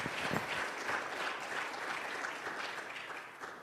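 A church congregation at a Spanish-language service gives steady, fairly distant applause before a pastor's sermon, many hands clapping in an even, unbroken wash.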